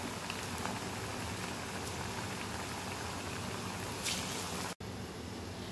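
Green gram vadas frying in oil over medium heat make a continuous, even bubbling hiss that stays steady throughout at moderate loudness.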